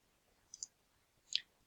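Two faint, crisp clicks of calculator buttons being pressed, spaced under a second apart against near silence.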